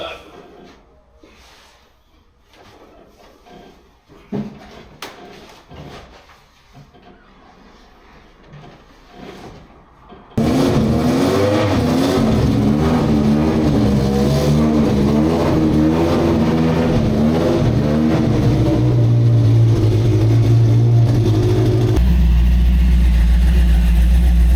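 LS3-powered Chevrolet C10 truck with Holley Terminator X tuning, quiet shop sounds before the V8 fires into a loud, steady close-up idle with a few rises in revs.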